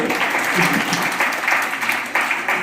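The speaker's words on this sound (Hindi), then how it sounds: "एक बार जोर से तालियां बजा दो।" Audience applause at an Indore Bhagavad Gita study group's birthday, farewell and Holi gathering, steady and loud for the whole stretch.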